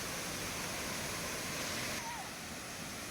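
Lakkam Waterfalls in Munnar, a steady broadband rush of falling water heard up close, loud and continuous with no gaps.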